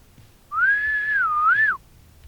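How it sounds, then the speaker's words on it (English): A single clear whistle, rising then dipping and rising again before falling off, lasting just over a second against a quiet background. "He whistled."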